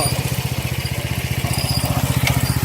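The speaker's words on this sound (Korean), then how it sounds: "지금 풀어지는 소리 들리시죠?" A motorized fertilizer spreader, spreading soil conditioner over a field, putters steadily with a fast, even engine throb, close by and continuous, with a faint rattle on top.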